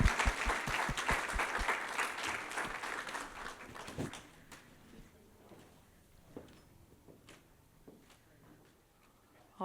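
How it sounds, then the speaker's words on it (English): Applause from a town hall audience for a guest panel, a burst of dense clapping for about four seconds that thins out into scattered claps and quiet room noise. "So a big round of applause, please, to our guest panel."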